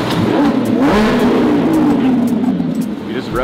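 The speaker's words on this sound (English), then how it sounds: "He just revved the piss out of it." A 2024 Lamborghini Revuelto's engine revs hard close by, one loud rising-and-falling roar, with people talking over it.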